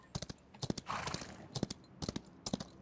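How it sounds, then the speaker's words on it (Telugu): A horse in the BGMI mobile game trots with sharp clip-clop hoof beats in irregular clusters, quiet overall, with a brief whoosh of movement in the middle. "సౌండ్ బాగుంది హార్స్ది."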